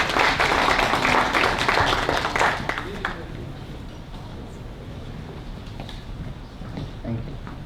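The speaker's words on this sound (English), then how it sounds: "let's have another round of applause for the Hampton Bays Middle School Harmonizers led by Miss Fadenbach" Audience at a school veterans flag ceremony claps loudly for a middle school choir, the applause fading after a few seconds into quieter room murmur and rustling.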